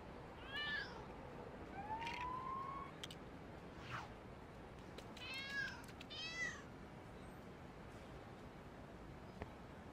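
Cat meows in the LEGO City Undercover video game, several short rising calls spread across the stretch over a quiet game background.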